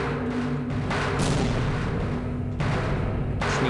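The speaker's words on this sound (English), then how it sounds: "Throw a grenade over there." Grenade blast in the shooter Half-Life, a dense sustained rumble with repeated booming surges, loud and close, no talk over it.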